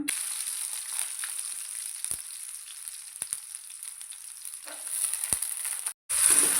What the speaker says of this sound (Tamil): இப்போ இதில் நம்ம வாஷ் பண்ணி வச்சுருக்கிற சுண்டைக்காய் சேர்த்துக்கலாம்.